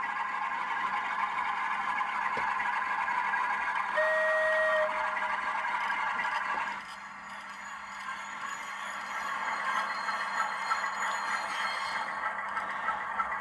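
Class 47 locomotive, number 47537, heard as a model sound decoder playing a steady diesel engine drone with a brief tone near the middle, continuous and fairly quiet throughout.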